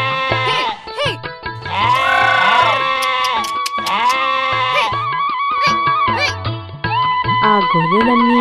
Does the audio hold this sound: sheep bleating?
yes